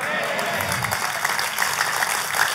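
Sustained applause from a church congregation, dense and steady clapping over a roomy hall with a faint voice mixed in, continuing at an even level throughout.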